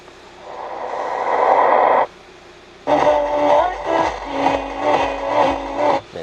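Music plays through the speakers of a Kia K7 2.4 GDI car interior, first a muffled swell, then after a brief pause a punchy rhythmic track with a steady beat.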